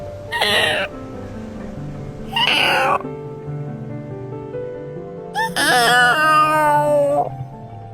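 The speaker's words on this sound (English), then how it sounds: "That scared your cat." A cat meowing three times, loud and close, the last call long and drawn out, over a sustained low musical drone.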